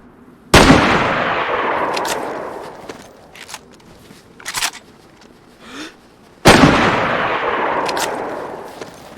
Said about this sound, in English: starts firing loud rounds.